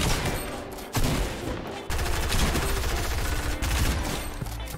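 Rapid gunfire in the Fortnite video game, dense bursts of automatic shots running continuously and loudly with brief breaks, no talking.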